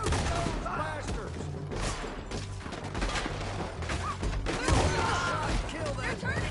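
Chaotic gunfire from a town shootout in the video game Red Dead Redemption 2, with dense overlapping shots and crashes under shouting voices and game music.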